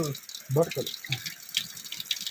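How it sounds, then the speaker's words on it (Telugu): Water runs and splashes nearby on a rocky hill outing, a brief wet, bubbling flow with voices talking over it. "నీళ్ళు ఇక్కడ వస్తున్నాయి ఫ్రెండ్స్, చూడు."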